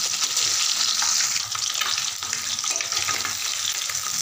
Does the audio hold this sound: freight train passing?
no